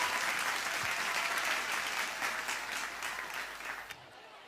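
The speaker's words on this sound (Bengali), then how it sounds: "সবাই মিলে একটা জোরে জোরে হাততালি হোক" An audience applauds for Khokonda, a dense sustained round of clapping from a crowd that fades out near the end.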